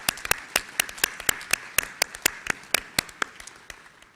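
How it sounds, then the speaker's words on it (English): Applause at a secondary school speech day ceremony in Malaysia, heard as sparse, distinct claps from a small number of people in a steady, uneven patter that fades toward the end. "I think that deserves a round of applause, doesn't it?"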